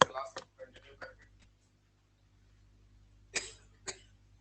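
A few short, harsh bursts of coughing at the start, then quiet, followed by two more coughs near the end, close and fairly loud.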